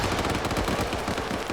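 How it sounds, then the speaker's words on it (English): Dense, rapid gunfire from a 7v7 online shooter match, overlapping automatic bursts that crackle loud and continuous with no pauses. "There's so much gunfire."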